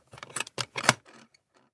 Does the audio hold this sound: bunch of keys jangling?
yes